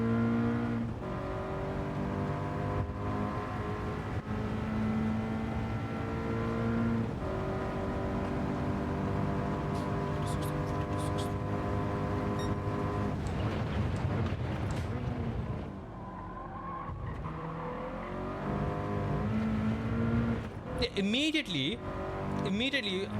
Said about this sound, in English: We take car, we vroom at Nürburgring.